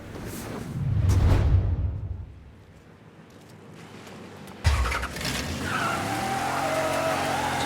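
A car in the video game Mafia 3 roars and skids with a surging engine and screeching tires, then fades to a quieter rumble before a sudden thump and a renewed steady engine drone.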